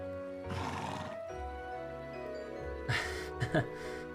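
A horse named Arthur whinnies in the Trails of Cold Steel 2 video game, two neighs standing out clearly over soft background music.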